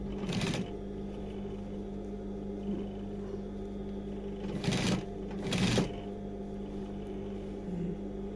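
A sewing machine hems the cut leg of a pair of jeans, its steady motor hum broken by a few louder bursts of stitching close by, with no talking.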